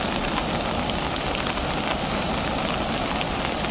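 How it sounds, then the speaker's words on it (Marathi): Heavy monsoon rain pours steadily over Panvel taluka near a flooding river, a dense, unbroken roar of drops hitting surfaces, loud and constant throughout. "संपूर्ण पनवेल तालुक्यातच मोठ्या प्रमाणात पाऊस पडत आहे।"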